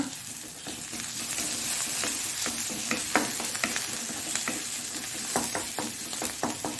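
Chopped curry leaves and coriander stems frying in a pan for egg masala gravy, a close, steady sizzle with irregular crackles and stirring scrapes throughout, no voices.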